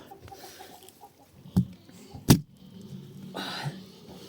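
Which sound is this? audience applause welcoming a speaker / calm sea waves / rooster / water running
rooster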